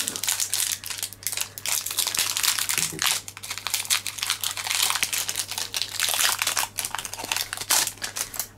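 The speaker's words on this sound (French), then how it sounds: "Allez, il nous reste deux boosters à ouvrir" A Wakfu trading card booster pack from the Chaos d'Ogrest set is torn open, its plastic wrapper crinkling and crackling loudly and close up in irregular bursts for several seconds.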